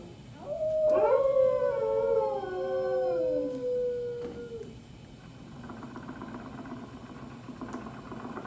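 An animatronic dog named Rover howls on the Carousel of Progress ride in Tomorrowland at Magic Kingdom. It gives one long, wavering howl that slides downward, set over a faint mechanical hum in an indoor theater.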